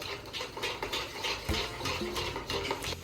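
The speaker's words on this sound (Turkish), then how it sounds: "Sonrasında bir buçuk tatlı kaşığı şeker ekliyorum ve biraz karıştırıyorum" A spoon stirs sugar into Turkish coffee in a cup, giving quiet, rhythmic clinks and swishes repeated several times, close and faint with no talking.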